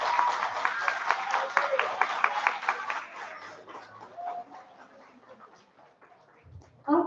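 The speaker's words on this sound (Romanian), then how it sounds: "Aplauze pentru elevii claselor a 8-a." Graduation-ceremony applause for eighth grade graduates of the 2022 class: a burst of broadband clapping, strongest in the first few seconds then thinning and fading, with voices murmuring underneath.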